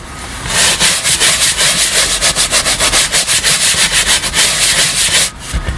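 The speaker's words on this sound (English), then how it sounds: "scrub away." A pad scrubs back and forth across a dirty leather car seat in quick, steady strokes, a rhythmic rubbing close to the microphone that runs for about five seconds and then stops. No voices are heard.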